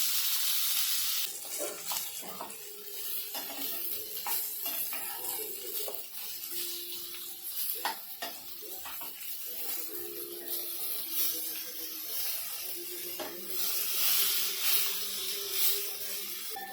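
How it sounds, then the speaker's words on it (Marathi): Fish fries in oil in a pan with a constant hissing sizzle, spattering and popping, joined now and then by utensil taps and a turning scrape, heard up close. "मच्छीना दोन्हीकडनं आपण छान फ्राय करून घेऊया"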